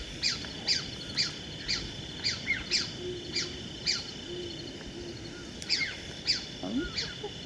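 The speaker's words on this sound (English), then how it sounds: "Two agitated elf owls. They're upset about something." Two agitated elf owls call in rapid, repeated sharp squeaks and chirps, fairly close, over a constant insect-like drone, with a lower note briefly audible underneath.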